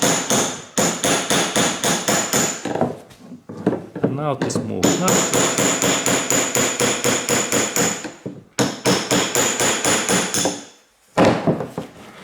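Repeated hammer blows drive a fuel pump lock ring around on a Toyota Camry, sharp metallic strikes landing in quick runs with brief pauses between bursts, loud and close, with a few spoken words partway through.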